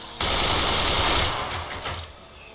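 Machine gun in the Forts strategy game, a loud rapid stream of gunfire lasting about a second, then tapering into a few weaker rattling bursts and a fading tail.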